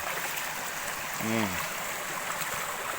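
Batang Bariria waterfall and river in Nagari Supayang rush with a steady, loud, broadband roar of flowing water, unbroken throughout. A brief voice sound rises over it midway.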